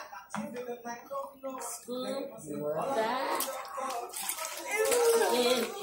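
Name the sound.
child scooping water with hands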